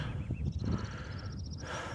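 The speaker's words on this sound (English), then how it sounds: "it's one of those birds that sound like they're on a modem." Bird on Dartmoor near Belstone giving a run of rapid, electronic-sounding chirps, like a dial-up modem, over low wind and outdoor rumble, moderately near.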